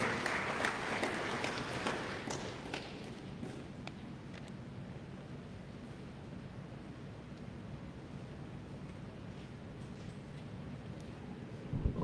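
Sustained applause from an audience at an inauguration ceremony for a new heavy equipment operator training workshop, a dense steady patter of many hands clapping that carries on for the whole stretch with no voices over it.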